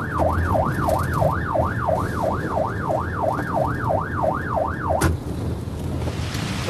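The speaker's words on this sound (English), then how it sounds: "Oh, it sounds like a police car." A police car siren wails in a steady, regular up-and-down cycle, fairly loud and close, over road and engine rumble; it cuts off abruptly near the end, leaving background noise.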